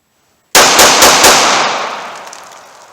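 Four rapid gunshots from a small .380 pocket pistol firing Winchester PDX-1 rounds crack out in quick succession, loud and close, followed by a fading echo.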